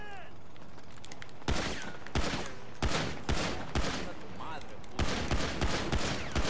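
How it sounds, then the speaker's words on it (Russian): Gunfire from the video game GTA V Online sounds as repeated loud bursts of rapid shots in a steady rhythm of volleys, amid game sound effects with some voice chatter. "Гады стреляют."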